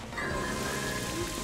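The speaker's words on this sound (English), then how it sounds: "Why are you making it rain?" Rain from the Rain Dance move during a Pokémon Scarlet & Violet battle: a soft, steady, even patter of falling rain, quiet and continuous, with no talking.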